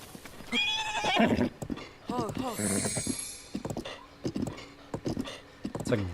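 A horse in the Breath of the Wild video game gives a couple of whinnies over a rhythmic patter of galloping hooves, with voice-like sounds mixed in among the game effects.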